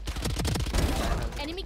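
Rapid bursts of gunfire in the tactical shooter game Valorant, a dense rattling volley of shots under a speaking voice, fairly faint in the mix.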